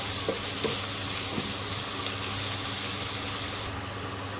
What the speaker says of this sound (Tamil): பட் கொஞ்சம் நல்லா வதங்கணும், கலர் நல்லா சேஞ்ச் ஆகணும்